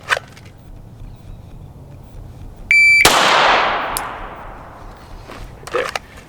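An electronic shot timer gives a short beep, then a single loud pistol shot cracks and rings out during a concealed carry draw drill, followed by faint clicks.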